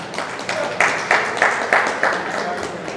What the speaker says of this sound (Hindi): इस कलाकार के लिए जरा जोरदार ताली तो दीजिए जरा